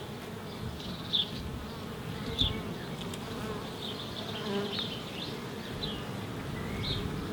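Honeybees hum steadily from an open beehive during a beekeeping inspection, a dense continuous buzz close by with a few louder individual bees passing near.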